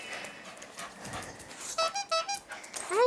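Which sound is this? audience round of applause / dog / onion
dog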